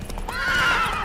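Roach, the horse in The Witcher 3 video game, gives a loud, close whinny lasting about a second, over faint hoof clip-clops.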